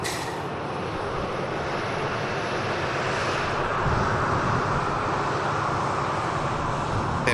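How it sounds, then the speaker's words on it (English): A Virgin Atlantic airliner arriving from Orlando touches down at Manchester Airport with a steady, moderately distant engine and rollout roar that holds evenly from start to finish. "Here you go, Virgin Atlantic. Flight Victor Sierra 76 coming from Orlando."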